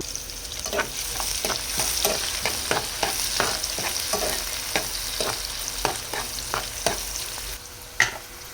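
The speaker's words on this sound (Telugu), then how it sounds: "కాస్త కరివేపాకు తర్వాత కట్ చేసి పెట్టుకున్న ఆనియన్స్ వేసుకుందాం" Chopped onions fry with curry leaves, mustard and cumin seeds in a pan for an ivy gourd egg curry. A loud, steady sizzle sits under regular spatula scrapes and taps, close up, ending with one sharper knock, and no one speaks.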